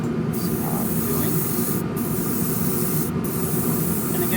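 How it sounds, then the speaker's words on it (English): An airbrush test-spraying red paint for a Revell 1968 Pontiac Firebird 400 model kit: a loud, steady close-up hiss of compressed air and paint, broken by three brief gaps where the trigger is released. "I'm just giving a little test spray."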